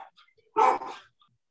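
Dog barking at home during an online community meeting, a single short bark heard over a laptop microphone, fairly close and loud against near silence, with a couple of faint voice fragments before it.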